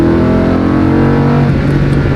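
A sports car such as a Porsche 991 GT3, Ferrari 488 GTB or Acura NSX accelerating hard on a race track, its engine roaring loud and close with a rising, continuous note.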